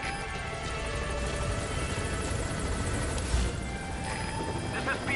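Steady low rotor thrum of a helicopter arriving in Metal Gear Solid V: The Phantom Pain, constant and fairly close, with a brief bump partway through.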